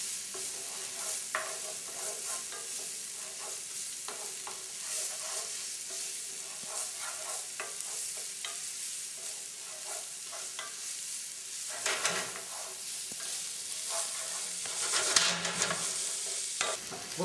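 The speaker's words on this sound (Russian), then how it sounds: "он постоянно помешивает, чтобы он не пригорел" Peppers, onion, garlic and hot pepper sizzle softly in a frying pan while being stirred, a steady faint hiss broken by repeated scraping strokes and a few louder clinks near the end.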